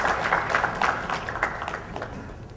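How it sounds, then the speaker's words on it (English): Audience at a Barcamp Bangalore feedback session applauding a speaker, a short burst of steady clapping from a modest crowd at moderate volume. "So a round of applause to the random bias speaker."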